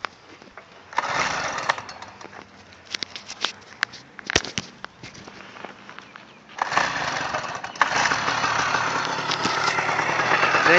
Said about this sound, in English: I will turn this bloody engine on.